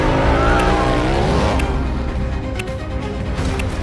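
A motorcycle engine revs hard as the throttle is gunned in an action movie chase, a loud rising whine that settles into a rough roar amid street noise.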